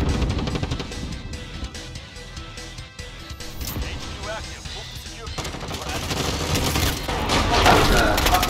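Dense, continuous gunfire in a first-person shooter game, loud and overlapping with crashes and game noise throughout, while a player shouts over it.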